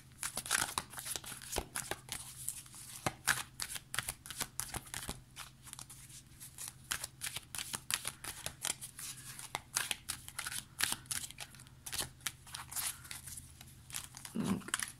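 Oracle cards being shuffled by hand in a quiet room, a steady run of close, crisp flicks and riffles continuing throughout with no talking.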